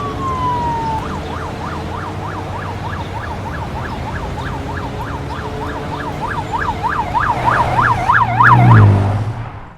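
An emergency vehicle siren wails in a fast, steady up-and-down yelp that rises in loudness as it approaches, over a low rumble of road traffic.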